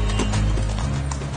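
A horse's hooves clip-clop on a street, loud and close in quick uneven strikes, with a brief whinny-like sound in the mix.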